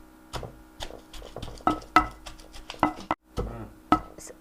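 Green chillies being pounded by hand until mashed for a tomato and sesame pachadi, a series of sharp, irregular thuds close by, each strike distinct with brief gaps between.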